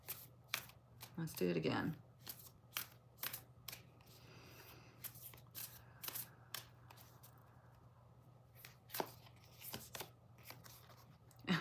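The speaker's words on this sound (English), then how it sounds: "I accidentally shuffled them up that way." Tarot cards riffled and shuffled by hand in repeated brisk bursts of papery flicks and taps, close and fairly quiet, with a person talking briefly between shuffles.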